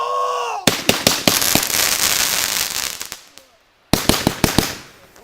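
Fireworks going off over the May 2-4 long weekend: a string of sharp, loud bangs with crackling that fades to a brief silence, then a second burst of close, rapid pops, with people exclaiming around it.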